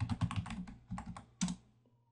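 Keys clatter on a computer keyboard in short, close bursts of typing, with a longer pause before a final flurry and a fade to quiet. Nobody talks.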